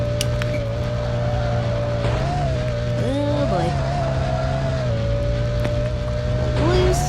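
Game engines from a Demolition Derby 3 race with a semi-truck: a steady droning motor runs throughout with brief pitch swells as the vehicles rev, loud and continuous, with talk over it.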